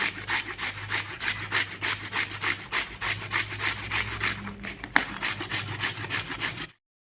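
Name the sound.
grating radish on the coarse side of a grater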